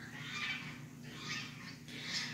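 Geese calling outdoors, heard through an open window at a home garden: three bright, honking bursts in quick succession, moderately loud over a low steady hum.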